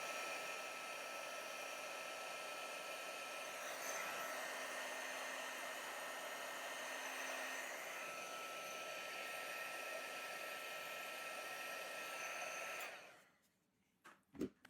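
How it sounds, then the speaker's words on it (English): A heat gun blows a steady, loud, close-up airflow roar while shrinking heat-shrink tubing over wiring for a 1997 Land Cruiser radio harness. It runs for about thirteen seconds, then shuts off, leaving near silence and a few faint handling noises. "I'll take the heat gun here. And I'll just go in here and watch it shrink."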